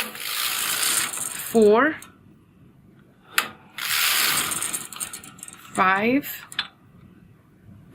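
A knitting machine carriage sweeps across the needle beds twice in loud, hissing rasps, each pass lasting about two seconds, while a person counts rows aloud between them.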